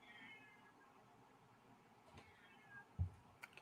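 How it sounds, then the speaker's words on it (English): A cat meows faintly with a drawn-out cry in the background, then a few quieter, softer sounds, all under low room noise. "Your cat is crying"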